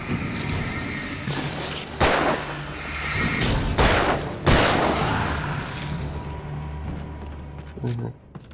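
Grenades go off in the video game Alan Wake as a series of heavy booms at irregular intervals, with a rumble between blasts, while a voice talks over the action.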